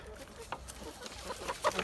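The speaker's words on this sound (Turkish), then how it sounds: "Aşağılardan da öyle bir horoz sesi geliyor ki" Rooster and hens in a neighborhood backyard coop, short clucking and calls scattered over the clip, moderately distant with farmyard background noise.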